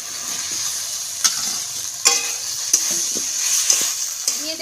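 Fried potatoes are stirred in a pan of cooked-down spiced masala, with a steady frying sizzle under repeated clear scrapes and knocks of a spatula against the pan.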